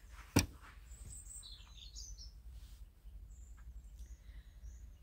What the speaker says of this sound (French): Alors on va avoir les oiseaux qui nous accompagnent,